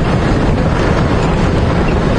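Strong wind buffets the microphone during a safari drive through the bush at Djuma Game Reserve, a loud, continuous low roar with gusting rumble and no voices.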